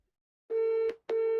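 A telephone network tone for a switched-off number: two steady electronic beeps separated by a short gap, the second cut off at the end, clear and alone with no voices.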